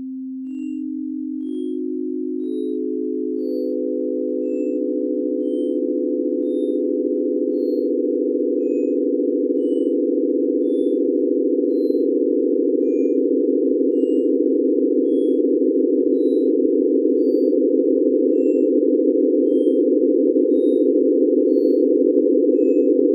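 Synthesized sine tones sonifying a 30-pointed star build up in staggered stepped layers into a steady, sustained chord, smooth and electronic, growing slightly louder and holding alone for over twenty seconds.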